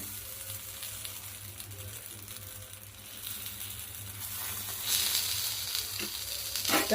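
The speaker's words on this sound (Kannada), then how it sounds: "ಇವನ್ನ ಇಲ್ಲಿ ಹಂಚ್ಮೇಲೆ ಮೇಲೆ ಬೇಯಿಸ್ಲಿಕ್ಕೆ ಹಾಕಿನಿ ಮ್ಯಾಲೆ ಏನದ ಎಣ್ಣೆ ಹಾಕೋಣ" Sweet potato holige cooking in oil on a hot griddle gives a soft, steady sizzle. Faint scraping and crackling build toward the end, and the sound stays quiet throughout.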